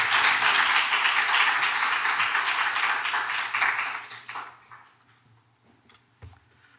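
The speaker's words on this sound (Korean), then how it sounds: "우리 박수로 환영하겠습니다." A church youth congregation applauds to welcome a pastor, with clapping that is loud and steady for about four seconds before it fades into a near-quiet room.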